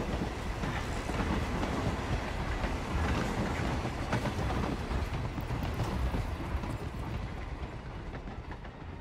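Train carriages in Hitman 3's Romania level rattle and clatter continuously, a loud, dense rumble of rolling wagons with steady clickety-clack that fades slightly toward the end.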